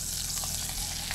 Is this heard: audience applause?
no